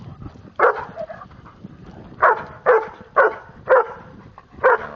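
A dog barks six times in short, loud bursts, a single bark followed after a pause by five more in a fairly steady rhythm, close by.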